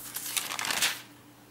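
Pages of a stamp album are flipped, giving a short burst of papery rustles and crinkles that swells and fades within about a second, alone and fairly close.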